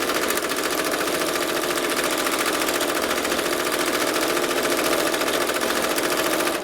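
A home sewing machine stitching quilted feathers, running in a continuous fast mechanical whir with a rapid, even needle rhythm, close and steady throughout.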